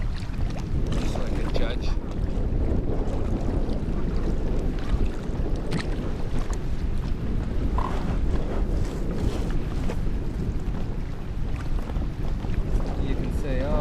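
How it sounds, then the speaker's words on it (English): Steady, loud wind buffets a boat out on Sec Lake, a continuous rushing roar with microphone gusts that stays up close throughout while someone talks over it. "How strong this wind is."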